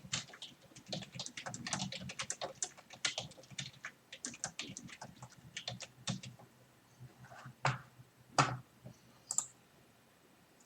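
Notes being typed on a computer keyboard, close and crisp: a dense run of fast keystrokes that thins out into sparser, louder individual key presses.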